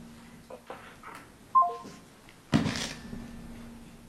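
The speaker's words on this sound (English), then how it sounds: "I'm going to hang up the phone now" Telephone being hung up during a public meeting call, with a few faint clicks, a short descending run of dialing tones, then a loud clunk and a sustained tone over low static.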